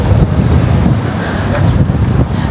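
Outdoor wind in South Korea on a cool April day, a loud, continuous gusting rush buffeting the microphone with faint background traffic beneath it.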